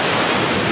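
Sea waves wash in at Saltwick Bay on the coast, a loud, continuous broad surf roar mixed with some wind buffeting, close by.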